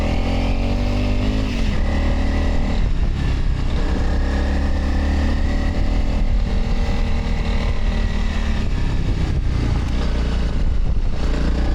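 Motorcycle ridden over loose, skittish gravel on a Pyrenees trail, its engine droning steadily and loud throughout with a continuous rough rumble and crunching road texture.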